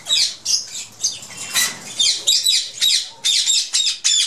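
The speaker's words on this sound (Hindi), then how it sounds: "अभी डाल रहे हैं यासिन भाई अपने बर्ड्स को दाना" Pet parrots squawk and screech repeatedly at close range while being given seed, the harsh calls coming in rapid, regular bursts with no talking.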